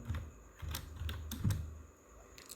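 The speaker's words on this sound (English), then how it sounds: "Now I'm going to type her name." Typing on a computer keyboard while designing a birthday flyer in Photoshop, with a few clustered bursts of close key clicks over a low background hum, no talking.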